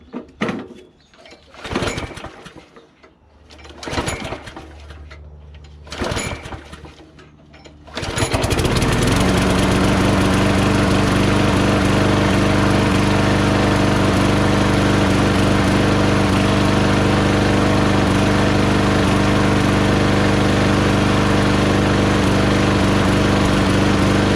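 A Craftsman 21-inch push lawn mower with a Briggs Quantum engine is pulled several times, then starts and runs with a loud, steady roar close by; birds coo in the background during the pulls.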